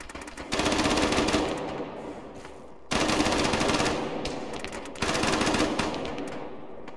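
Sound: gunfire in a tank video game

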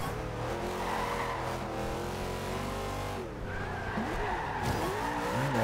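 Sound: Dodge Charger skidding in video game Forza Horizon 2

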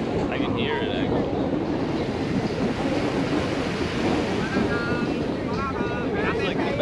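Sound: ocean waves breaking on the shore

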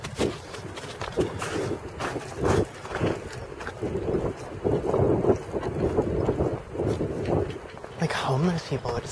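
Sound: strong wind blowing

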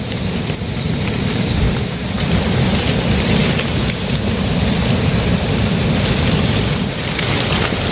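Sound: rain falling

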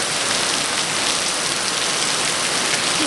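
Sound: heavy rain falling in Rwanda

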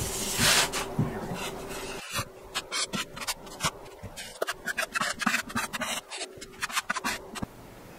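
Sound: sanding drywall

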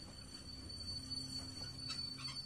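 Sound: train breaking down, from The Walking Dead video game

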